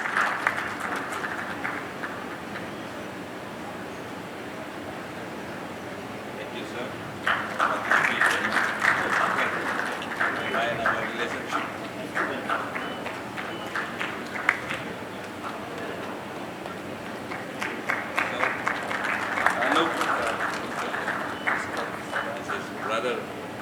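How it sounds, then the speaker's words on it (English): An audience at a Jakarta–Mumbai conference applauds in two swelling bursts over a steady room murmur, with a voice speaking between and around the claps. "Please give a warm round of applause."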